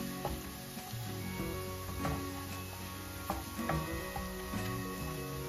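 Chili powder, turmeric and spices fry in hot oil in a pan while making chicken curry, a continuous loud sizzle with occasional stirring scrapes and taps.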